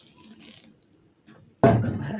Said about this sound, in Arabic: انا كده هحط ميه تاني